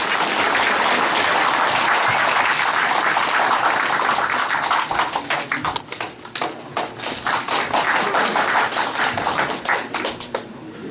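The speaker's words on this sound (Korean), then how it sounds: "큰 박수로 맞이해 주시면 감사하겠습니다" Audience applause at a press conference for a National Assembly preliminary candidate in Gumi, South Korea, loud dense clapping that thins into scattered claps in the second half.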